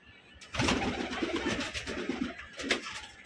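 Fancy pigeons at a bird sale in Mumbai coo in soft, low, throaty bursts that repeat close by, with faint rustling between the calls.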